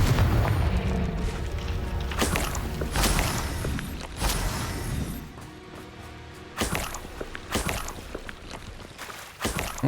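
A Confringo blasting spell bursts in Hogwarts Legacy with several loud booming impacts, spaced a couple of seconds apart amid rumbling combat noise and cracking debris, close and forceful.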